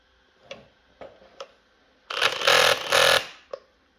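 A Makita 18V LXT cordless line trimmer is switched on and runs in two short whirring bursts to tighten its head, with a few soft clicks of handling before and after.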